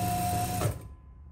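Domestic sewing machine stitching a short backstitch at the end of a seam on jacket fabric, a steady close mechanical whir that slows and stops, with no talking.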